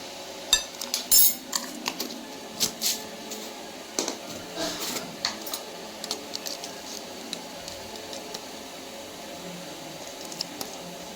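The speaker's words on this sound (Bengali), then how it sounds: "পুরা ফেটাতে হবে যত ফেটাবো তত পিঠাটা ভালো উঠবে" Semolina batter for bhapa pitha, with baking powder and soda added, whisked in a bowl: irregular clinks and taps of a utensil against the dish, close and fairly loud.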